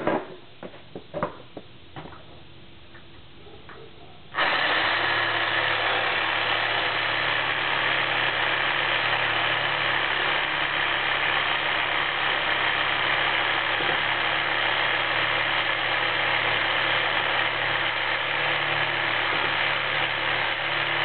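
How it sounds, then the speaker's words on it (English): A saw cuts through a trailer hitch with a steady, loud, continuous grinding drone that starts abruptly after a few seconds of light knocks and handling noises and runs unbroken to the end. "we're just going to try and saw it off and see how far we can get"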